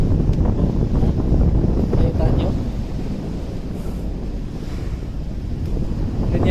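Strong wind buffets the microphone in a constant low roar for several seconds aboard a ship sailing in Europe, with a faint wash of water beneath it.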